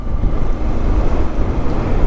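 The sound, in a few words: strong wind during hurricane aftermath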